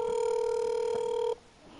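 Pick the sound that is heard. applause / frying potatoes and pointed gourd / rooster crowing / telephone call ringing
telephone call ringing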